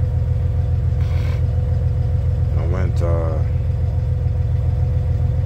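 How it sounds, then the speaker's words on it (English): A Volvo truck engine idles while warming up, a steady low diesel rumble throughout, with a brief voice-like sound partway through. "I'm over here warming it up now."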